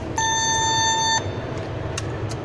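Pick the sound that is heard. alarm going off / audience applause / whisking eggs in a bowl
alarm going off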